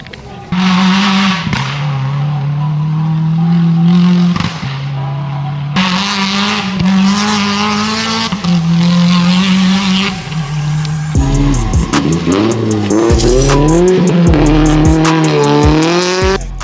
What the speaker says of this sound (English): capture some shots of cars racing back down the hill towards the finish line